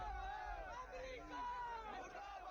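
A large crowd gathered in Lucknow, a dense murmur of many voices with chanting-like rising cries, continuous and somewhat distant, fairly faint.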